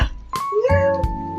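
A single cat meows clearly and close by, a rising then falling cry lasting about a second.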